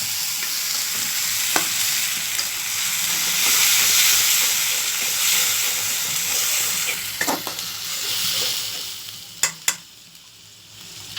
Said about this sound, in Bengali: পানি দিয়ে কষিয়ে নিব।